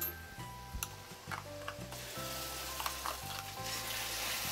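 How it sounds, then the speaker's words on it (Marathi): Ground masala paste with turmeric and asafoetida for a Maharashtrian soya chunks gravy, sizzling and frying in a pan. The sizzle is steady and close, with occasional stirring and scraping knocks. "आता बघा हा मसाला आपण 1-2 मिनटं बघा आता चांगला भाजून घेतलेला आहे।"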